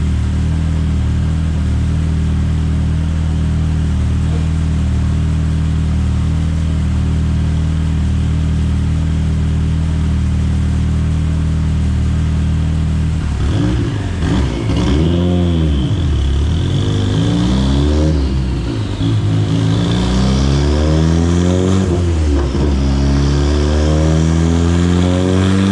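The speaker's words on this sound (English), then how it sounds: "So we hit a boost cut." A tuned Mitsubishi Lancer Evolution IX with a 2.4-litre stroker, Wiseco pistons, GSC S2 cams and a Haltech Elite ECU on flex fuel idles steadily, then revs hard in sweeping climbs and drops as it hits boost cut, loud and close.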